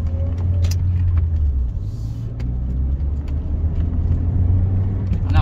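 A car rolls forward from a stop at an intersection without traffic lights, its engine and road rumble steady and close, with faint rattles and a brief higher whine near the end.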